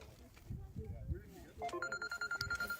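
A telephone rings with an incoming call during a live broadcast: a steady run of quick, evenly spaced electronic tone pulses starts partway through, after a stretch of voices talking.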